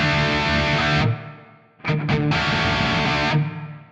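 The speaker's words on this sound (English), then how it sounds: "we've got a reverb here with a concert reverb" Distorted electric guitar through an Ampero II Stomp multi-effects processor with a concert reverb, two sustained chords with reverb tails, separated by a brief muted strum.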